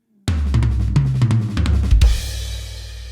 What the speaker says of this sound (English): We're just playing an inverted double stroke roll that sounds like this